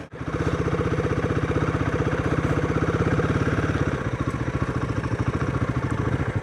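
A Royal Enfield Himalayan 450 motorcycle engine thrums steadily up close under engine braking, a rapid even pulsing that holds for several seconds with a slight shift in tone partway through.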